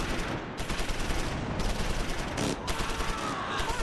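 Dense, continuous gunfire and overlapping bursts from a World War II tactical battle in the Close Combat IV game near Stavelot and St Vith, a loud steady crackle of rifle and machine-gun fire with no pauses.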